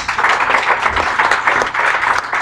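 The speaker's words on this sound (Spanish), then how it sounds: "¿No te da gozo dar un aplauso a Cristo Jesús?" Congregation applauding in a church during a Lord's Supper service, a dense, steady wash of many hands clapping close and loud throughout, with no voices over it.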